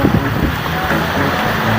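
Sea waves wash onto a beach shoreline, close and loud, mixed with strong gusting wind buffeting the microphone in a steady rush.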